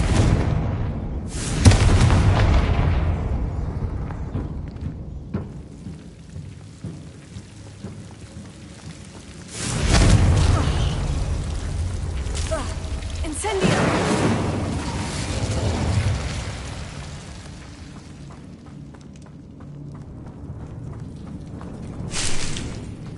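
Confringo fire spells go off in Hogwarts Legacy as a few booming, rumbling explosions that fade slowly, with crackly, rain-like noise between the blasts.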